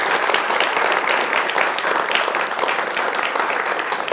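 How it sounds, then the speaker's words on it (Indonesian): A TV talk show studio audience applauds, with dense, even clapping sustained at a constant level from start to finish. "Tepuk tangannya teman-teman."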